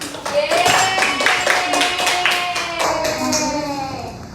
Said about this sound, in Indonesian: Terima kasih ya. Tepuk tangannya